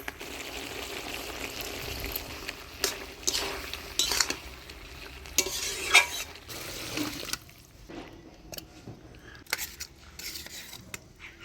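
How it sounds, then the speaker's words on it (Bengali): Potato and flat bean curry with mustard paste stirred in a pan in a village kitchen, with scraping spoon strokes and metal clinks in irregular bursts over a soft cooking hiss, close, with quiet gaps toward the end. "এবার একটু চিনি দিয়ে নাড়াচাড়া করে নামিয়ে দিব"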